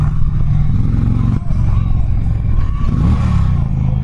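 An Indian Challenger motorcycle engine drones loud and close while riding, a steady throb with a short dip near the middle and a mild rev toward the end, no talking over it.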